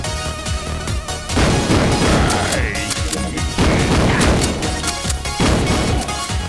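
Shotgun fire in the sci-fi shooter video game Mace Griffin: Bounty Hunter, a dense, loud run of booming blasts and crashing impacts over a continuous wash of battle noise.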